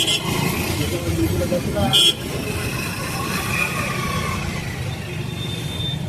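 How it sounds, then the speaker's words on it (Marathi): A road traffic jam near a village market, with a steady close rumble of idling and creeping vehicles and a short horn blast around the middle, while voices talk nearby. "ट्रॅफिक जाम आहे."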